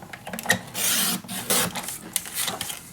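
Paper strip for a mini album being cut, a close series of dry rasping, scraping strokes in irregular bursts with short pauses between them.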